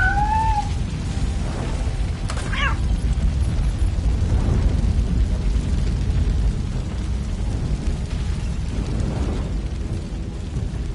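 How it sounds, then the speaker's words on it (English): Fire burning in the Robocop video game, a loud, continuous rumbling roar with a steady crackling texture, heard alone. "Fire is blocking the way."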